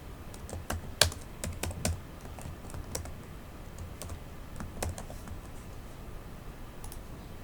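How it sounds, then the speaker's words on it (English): Fingers tap a computer keyboard in a quiet room, an irregular scatter of soft clicks and a few sharper key presses, faint and close with pauses between bursts. "You can start typing."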